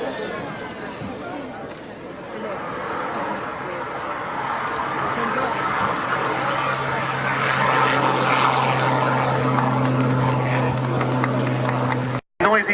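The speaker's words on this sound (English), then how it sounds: "noisy once again with the Belgian air component. General Dynamics F-16A MLU Fighting Falcon." A Belgian Air Component General Dynamics F-16A MLU Fighting Falcon fighter jet passes at the Royal Navy International Air Day, RNAS Yeovilton air show, its loud, steady jet roar building and holding as it flies by, with a sustained low engine drone and crowd ambience.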